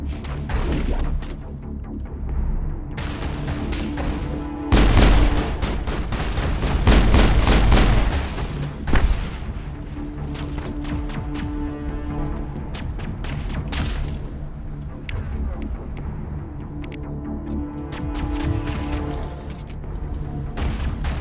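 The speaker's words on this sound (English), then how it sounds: "Yes, I'm throwing grenades" Grenade blasts and bursts of gunfire in the video game Mass Effect, with heavy booms clustered in the middle amid rattling shots and a low rumbling game soundtrack throughout.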